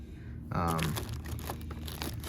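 A plastic bag wrapped around a dirt bike's wiring harness crinkles and rustles in short bursts at close range, with a person talking over it.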